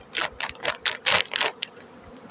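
Honeybee colonies buzz close by in a series of short, uneven surges, with the hum rising and dropping several times as the insects move around the hives on a warm, windy day.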